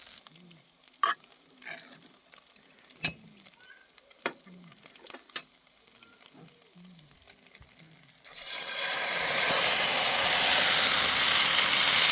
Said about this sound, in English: First I added the sausages. Once they're all nice and brown, I'm then going to add the baked beans.